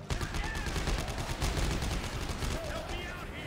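Dead Space 3 gunfire crackles in steady rapid bursts, loud and dense throughout, with echoing sci-fi tones and voices talking underneath.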